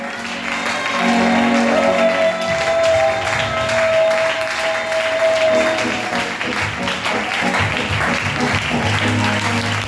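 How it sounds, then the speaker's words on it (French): Church congregation at a Sunday service applauding and cheering, a loud sustained wash of clapping with crowd voices and a held tone mixed in, lasting throughout. "lève-toi et acclame le Dieu"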